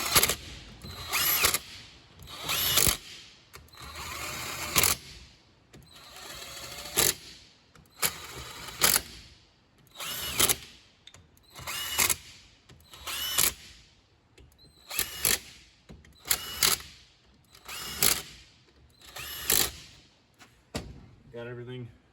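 A power tool tightens the crankcase bolts on a vintage Ski-Doo 340 Exciter race sled engine during a rebuild, firing in about a dozen loud, regular bursts with short pauses between, close up and without talk.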